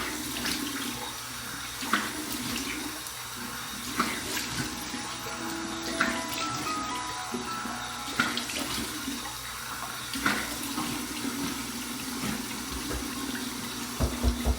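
Cold tap water runs steadily into a sink for a rinse after shaving with a Schick injector razor, a constant close splashing stream broken by occasional splashes and knocks, with no speech.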